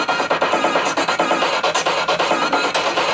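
A DJ loop plays through a slicer effect that chops it into rapid, evenly spaced choppy pulses, dense and steady throughout, with no voice.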